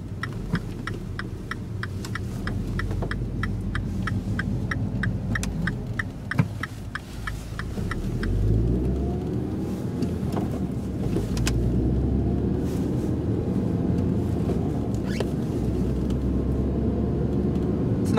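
A manual transmission car driving on a town street, its engine running steadily with a fast ticking like a turn signal through the first half, then a shift in engine tone as it slows and turns.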